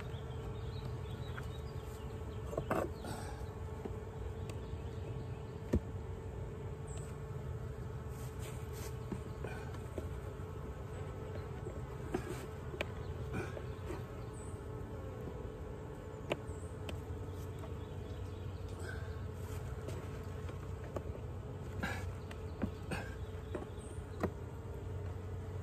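Honey bees humming steadily around a closed wooden hive during dry sugar feeding, a continuous low drone that stays even and moderately faint throughout, with no voices.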